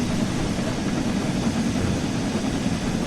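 Steam locomotive safety valves blowing off in Train Sim World 4 on the West Somerset Railway, a steady loud broadband roar of escaping steam continuing unbroken with no pauses.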